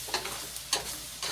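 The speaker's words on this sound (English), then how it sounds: "just stir around the bacon and the pasta so that bacon taste comes to all of it" Bacon and pasta stirred in a pan on a low stovetop, giving a few brief scraping strokes over a faint steady sizzle, close and quiet.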